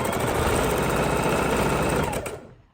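A sewing machine stitches a Mexican-themed pinwheel quilt block, running in a steady, close mechanical whir for over two seconds before stopping near the end.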